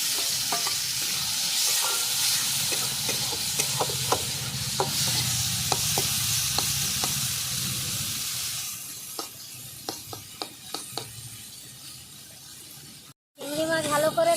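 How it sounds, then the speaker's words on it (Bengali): Shrimp fry in hot oil in a kadai, giving a steady bubbling sizzle. Sharp clinks of a spatula against the pan are heard through it, and the sizzle drops off abruptly near the end. "এই তেলে আমি চিংড়ি মাছগুলো ভেজে নেব।"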